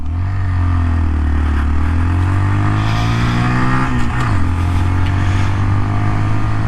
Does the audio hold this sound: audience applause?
no